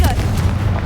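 Confringo fire-blast spell in Hogwarts Legacy, a loud, dense explosive burst with heavy low rumble that stays thick and sustained under faint chatter through the whole moment.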